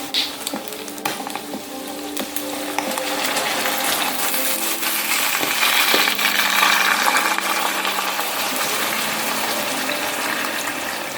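Beef broth poured into a hot pan of Jamaican jerk pork, setting off a loud, hissing sizzle that builds after a few seconds and holds steady, with soft stirring clinks underneath.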